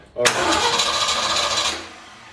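A Ford 351 V8 cranks briefly and then roars into life, running loud and close for over a second before the sound drops away; a voice is heard in the background.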